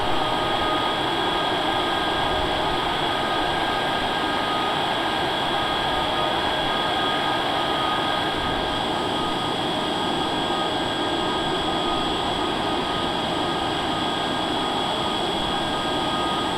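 Aircraft engine drone during a landing approach on a flight from Camden, Maine to St. John's, Newfoundland, a steady loud broadband roar with constant tonal hum holding unchanged throughout, no talk.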